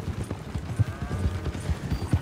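Horse hooves clip-clop in the western video game Red Dead Redemption 2, a brisk run of close, uneven thuds over a low rumble of background sound.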